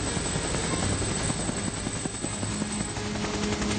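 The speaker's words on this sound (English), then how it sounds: "a rescue helicopter is sent in search of the Satori." A Coast Guard rescue helicopter's rotor drones loudly and steadily, close by, with a continuous engine roar and rhythmic blade chop filling the whole clip.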